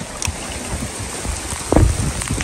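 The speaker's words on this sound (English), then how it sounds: "It just started raining harder." Heavy thunderstorm rain pours down as a dense, steady roar of drops. A louder splashing burst comes near the end.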